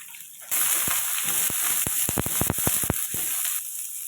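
Onion and two dried red chilies drop into hot oil already tempering with chana dal and mustard seeds, bursting into loud steady sizzling with a cluster of sharp crackling pops near the middle before settling.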